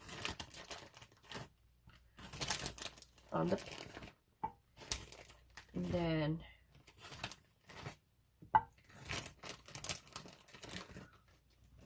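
A plastic bag crinkles and rustles in short bursts against a paper towel, mixed in with a person talking nearby.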